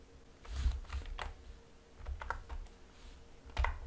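Keys on a computer keyboard are pressed in a short series of faint, close clicks and taps with irregular spacing, while a ZBrush custom hotkey is set up; no one speaks.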